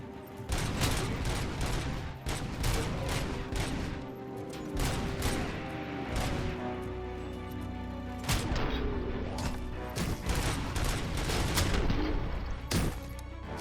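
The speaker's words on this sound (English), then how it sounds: "who's still shooting at me?" Dense, loud gunfire from the Robocop Rogue City video game, with rapid bursts and overlapping shots and impacts rolling continuously and thickly layered, no voice over it.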